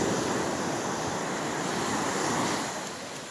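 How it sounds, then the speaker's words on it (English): Ocean waves breaking on a beach in the early morning, a steady broadband wash of surf with some wind noise on the microphone, continuous and fairly close, easing slightly at the end. "Waves in the ocean."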